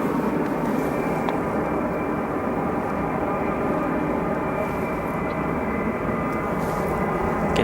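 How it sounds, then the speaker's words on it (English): Air China Cargo Boeing 777 jet idling at the runway end, a steady distant roar and whine of engines holding constant for several seconds. "Down at the end of the runway there, we do have our Air China Cargo 777 FFT, which will soon be departing to Shanghai International Airport."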